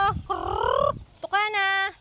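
Chickens give a few drawn-out, rising calls in two close, fairly loud bursts with a short gap between them. No pecking can be made out.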